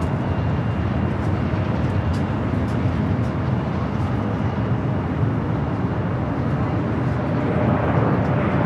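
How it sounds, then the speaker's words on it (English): An Airbus A321neo rolling down runway 24 Left at Los Angeles International Airport, a loud continuous broadband roar of jet engines heard from a distance, steady throughout with no voices. "the A321neo now rolling down to 24 left"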